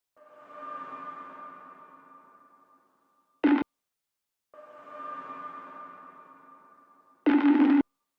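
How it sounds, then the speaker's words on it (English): Atmospheric ambience patches from a Kontakt sample library, two slow swelling tonal drones that fade out, each ending in a brief loud noisy burst, with silence between them and no voices. "I'm going to reach for some ambiences within the Kontakt library and add some atmosphere."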